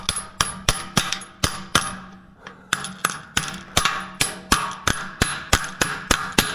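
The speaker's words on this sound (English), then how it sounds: "I've seen how I swing a hammer" A hammer strikes metal again and again in a steady, evenly spaced rhythm, about seventeen sharp ringing blows with a brief pause partway through, loud and close.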